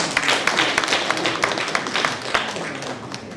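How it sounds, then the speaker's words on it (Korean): A seated audience at a Korean book launch and poetry reading claps steadily after a recital, a dense, continuous round of applause that stays close and fairly loud throughout. "시에 푹 빠져들게 해주신 박연수 선생님께 다시 한번 큰 박수 부탁드립니다."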